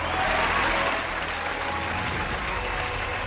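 A large audience applauds the Chandrayaan-3 moon landing, a dense, continuous roar of clapping close at hand that eases only slightly over a few seconds.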